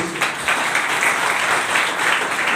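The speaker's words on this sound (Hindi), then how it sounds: "ताली बजाओ इसके लिए" Steady applause from a church congregation, dense clapping that holds at an even level throughout with no pauses.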